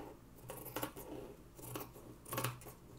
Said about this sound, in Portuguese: Então, vamos terminar de cortar aqui e partir pro outro.